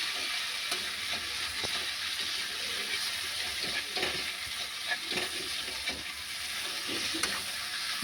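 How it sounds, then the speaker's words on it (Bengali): Potatoes are stirred into a Bengali bata fish curry in a pan, giving a faint soft sizzle with scattered light clicks and scrapes of a spoon against the pan. "আলু দিয়ে একটু ভালো করে নাড়বো"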